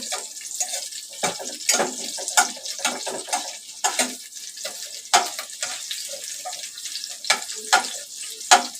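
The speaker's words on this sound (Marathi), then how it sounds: "मिरच्या थोड्या भाजून घेते" Green chillies roasting in a hot pan for methi bhaji, close and sharp: irregular crackling pops and spits burst out one after another over a quiet background, with no talking.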